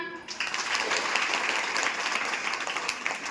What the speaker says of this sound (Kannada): ದಯವಿಟ್ಟು ನಮ್ಮ ಯೋಜನೆಯ ಚಪ್ಪಾಳೆ ಇದೆಯಲ್ಲ, 1 2 3 ಒಮ್ಮೆ ಹಾಕಿ ನೋಡೋಣ.